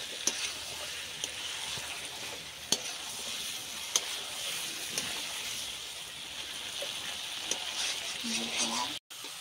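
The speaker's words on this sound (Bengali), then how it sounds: "এবার খুব ভালো করে কষাবো।" Goat meat being sautéed with homemade spices in a home kitchen after the curry liquid has been cooked down, giving a steady broadband sizzle with occasional sharp stirring clicks and scrapes, fairly close and continuous throughout.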